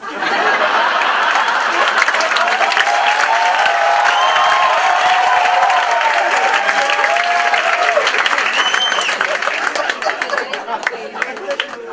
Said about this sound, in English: I don't know why you will applaud in classroom.